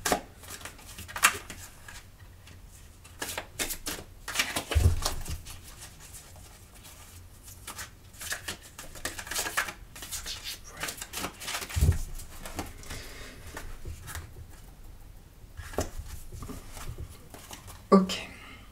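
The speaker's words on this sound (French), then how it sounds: "Je vais remélanger quand même un petit peu." Tarot cards being reshuffled by hand in a quiet room, soft riffling and rubbing bursts scattered across the clip with a few louder taps, close and low in level.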